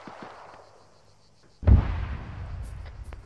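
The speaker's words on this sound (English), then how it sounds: "There's explosions going off in the building." An explosion inside a building during an Arma 3 co-op combat mission: a quiet stretch with faint distant pops, then one sudden heavy near blast with a long rumbling decay.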